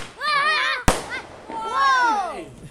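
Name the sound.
fireworks exploding in the sky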